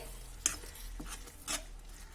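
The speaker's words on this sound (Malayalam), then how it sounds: "നമുക്കിത് നല്ലതുപോലെ ഇളക്കി കൊടുക്കാം കേട്ടോ" Mango pickle with melting sugar being stirred in a pan, giving three soft scraping strokes about a second apart, close and fairly quiet over a faint low hum.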